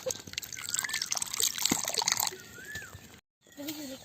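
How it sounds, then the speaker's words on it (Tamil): Hot water pours and splashes steadily for a few seconds, close up, followed by a brief silence and a light trickle. "இந்த இந்த சூடாக சூடாக தண்ணியை கீழே ஊற்றிடுவோம்"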